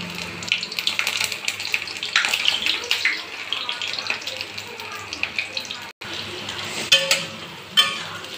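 Food frying in hot oil in a wok over medium heat, a steady close sizzling hiss with a few sharper crackles and pops near the end.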